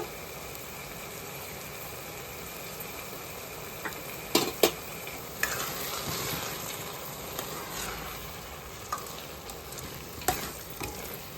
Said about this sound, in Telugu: నెయ్యిలో వేపుకున్న డ్రై ఫ్రూట్స్ కూడా వేసుకుందాం ఫ్రెండ్స్ వేసుకొని కలుపుకోవాలి